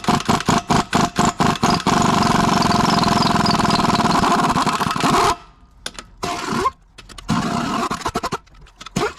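A seized Cadillac V8 on a farmer-built airboat, with the distributor and carburetor off, is cranked hard in loud rapid chugging pulses, then breaks into a sustained close roar before cutting out and sputtering in short bursts.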